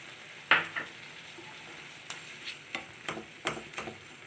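Cashews and raisins go into a pan of pineapple chutney, giving a sharp burst of sizzling frying followed by scattered stirring clicks and scrapes over a low hiss.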